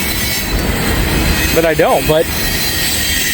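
A long freight train with DPUs and helper locomotives climbs a steep grade, giving a steady loud rumble with wheels squealing briefly in the middle, heard from close by under a few spoken words.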